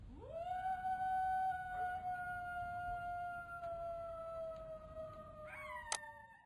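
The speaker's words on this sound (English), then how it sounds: "Poor Dog Dingo sits down and howls." A dingo dog in an animated children's tale lets out one long howl that rises, holds a steady pitch for several seconds and ends with a brief sharp upward cry, alone over a quiet background.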